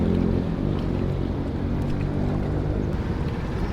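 A long-tail boat runs on a river, its engine a loud, steady, close drone with broadband wash and churning water that holds constant for the whole stretch.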